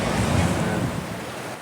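Swift, deep current of the Regoyo River rushing steadily, a continuous broadband roar of flowing water that is loudest at the start and eases slightly toward the end, with no voices.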